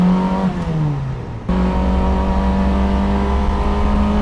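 A Mercedes S600 fitted with a motorcycle engine revs hard and high, its pitch sweeping down and then surging back up into a loud, sustained, whining drone heard from inside the car.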